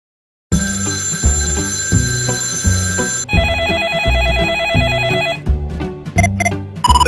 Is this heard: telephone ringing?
yes